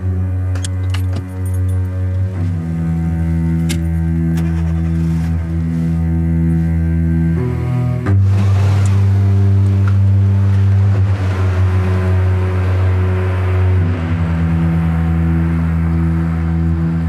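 A car with a steady, loud tonal engine drone, whose pitch shifts about midway as if it is changing gear or pulling away, running continuously with no speech.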